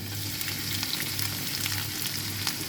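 Dry red chillies and a little garlic frying in hot oil give a steady, dense sizzle with faint crackles on top, close and continuous, with no talk.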